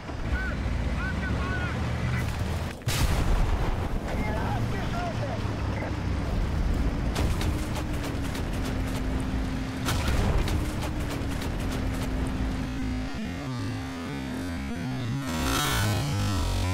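Game audio from War Thunder with an M1 Abrams tank firing: loud, dense battle noise with a sharp cannon-like blast near the start and further bursts, under continuous engine rumble and wind, with a person talking.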